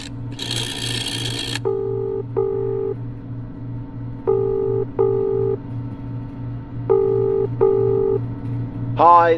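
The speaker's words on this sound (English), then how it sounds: "call this number from the phone set on the table" A phone number is dialed on a table phone in the Escape Memoirs video game: three groups of clear keypad tones over a pulsing background, with a short burst of noise before and a rising tone at the end.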